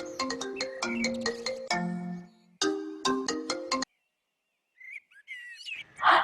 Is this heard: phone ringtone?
yes